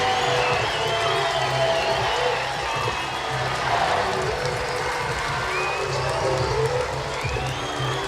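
A packed crowd at an Oklahoma college softball game in the Women's College World Series roars with sustained cheering, whoops and applause, loud and continuous throughout, with a broadcast commentator's voice faintly underneath.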